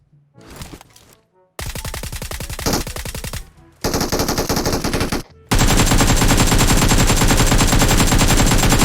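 Video game gunfire from automatic weapons, loud rapid bursts in several separate volleys, the final one long and continuous at close range.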